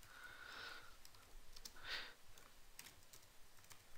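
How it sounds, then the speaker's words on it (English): A computer keyboard is typed on in short, quick bursts of soft key clicks, faint and close, with brief pauses in between and no talking. "Now we're going to type in our display message."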